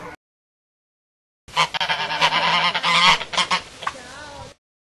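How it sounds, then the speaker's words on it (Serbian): Geese honk loudly and repeatedly in a busy, overlapping burst lasting about three seconds, close by on an organic farm orchard shared with around a hundred laying hens, turkeys and guinea fowl. "živi oko 100 koka nosilja u društvu sa ćurkama, guskama, morkama"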